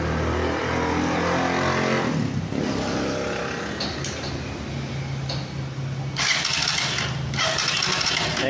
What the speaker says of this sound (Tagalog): i-crank nyo lang yung motor